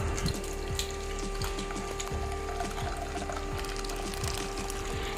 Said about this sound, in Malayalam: ഇനി ഇത് നല്ലപോലെ അരിച്ചെടുക്കാം